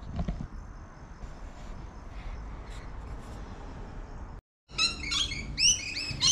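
Birds chirp in a backyard guava tree in Sydney, with a bright burst of sharp tweets near the end following several seconds of steady outdoor background noise.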